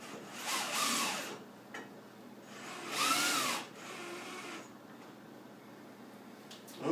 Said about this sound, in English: we're going to just snug this screw down